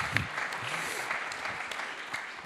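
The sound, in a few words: audience applauding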